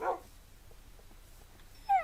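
A Minecraft dog whimpers in two short, high, whiny cries, one at the start and one at the end, with near silence between them.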